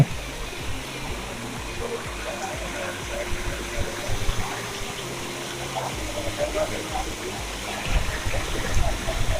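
Water from a small waterfall at Taptapani hot spring in Odisha rushes and splashes in a steady, continuous flow, fairly close by.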